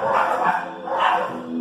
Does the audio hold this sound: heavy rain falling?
no